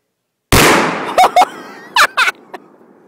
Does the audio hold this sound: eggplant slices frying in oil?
no